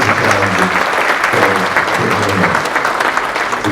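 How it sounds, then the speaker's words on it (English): An audience at a housing summit session breaks into steady, loud applause, with clapping that fills the whole moment and faint crowd murmur mixed in. "we should all give ourselves a round of applause"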